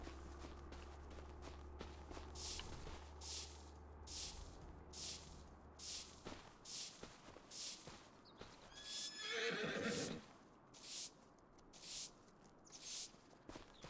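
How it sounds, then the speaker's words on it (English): A horse in Farming Simulator 25 whinnies loudly once, mid-clip, amid rhythmic clip-clopping hooves and bursts of spraying water, alone with no talk. "Where's that dirty horse gone?"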